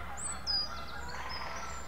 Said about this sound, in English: There's a lake nearby, as you can hear the geese.